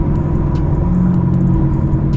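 A car engine idles with a steady low rumble and hum, loud and close, and a few faint taps sound above it.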